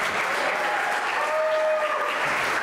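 A stage audience bursts into steady, dense applause for a guest arriving at a television show, clapping continuously at a moderate level with no clear voices on top.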